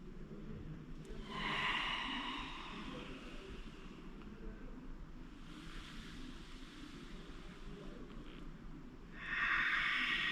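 Deep breaths during a mobility exercise routine, three broad airy exhalations spaced several seconds apart, close and fairly soft over a low background hum.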